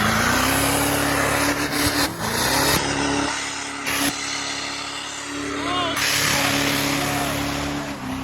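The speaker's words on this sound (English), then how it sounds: "You have to do a burnout." A car burning out its tires at an after-meet, a loud, sustained engine roar with squealing tires, up close and continuous, while people talk and shout over it.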